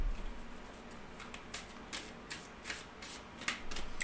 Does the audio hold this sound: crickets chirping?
no